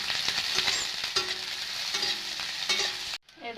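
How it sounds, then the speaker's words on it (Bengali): Chopped onions and a bay leaf sizzle steadily in hot oil, with occasional scraping stirs, before the sizzle cuts off abruptly near the end. "পেঁয়াজ কুচি আর তেজপাতা একটু নাড়াচাড়া করে ভালোভাবে পেঁয়াজটাকে আমি লাল লাল করে ভেজে নেব।"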